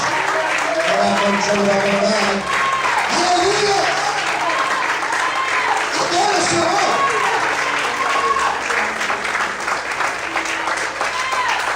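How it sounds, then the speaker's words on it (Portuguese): Church congregation applauding steadily during an evening worship service, broad sustained clapping throughout with a preacher and voices calling out over it. "Aplauda o Senhor essa noite."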